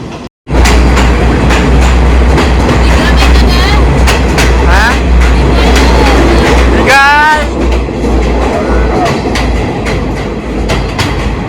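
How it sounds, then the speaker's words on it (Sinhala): A train rumbles steadily through a tunnel with a deep, continuous roar, wheels clattering and occasional squeals echoing, loud throughout with a brief silence at the start. "ගොඩාක් වෙලා යනකම් බින්ගේ ඇතුලෙන් තමයි යන්නේ ට්‍රේන් එක"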